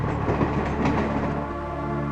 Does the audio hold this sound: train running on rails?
yes